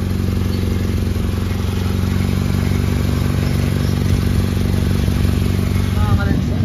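A Nissan Sentra engine runs with a rattling exhaust leak, a steady close rumble with a rhythmic metallic clatter throughout and a brief rev near the end.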